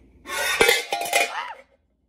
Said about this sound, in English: I feel like this is too small, so I'm gonna grab a bigger saucepan.